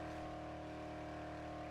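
A car engine drones steadily in Dead Island, a constant humming rev at even pitch with no speech, fairly faint and unbroken.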